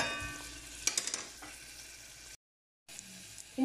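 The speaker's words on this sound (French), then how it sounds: "je fais revenir mes 2 petites échalotes" Two small shallots fry in a little oil in a pan, a soft crackling sizzle with a few stirring scrapes, then a brief silent gap before the frying resumes quietly.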